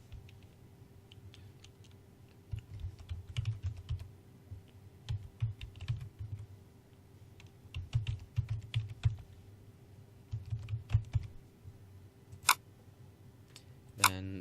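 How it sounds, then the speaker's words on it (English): Typing on a computer keyboard while entering a username and password, close and fairly quiet, with irregular bursts of key clicks separated by short pauses. "you have to go to Hotmail and type in the password and username"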